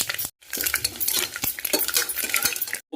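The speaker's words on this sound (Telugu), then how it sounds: "ముందు పోపు వేయించేసుకుందాం." Tempering of oil with mustard seeds, cumin and dried chili pieces frying in a pan for a kootu, with sharp bright crackling and popping throughout, punctuated by stirring and utensil clinks, close and fairly loud.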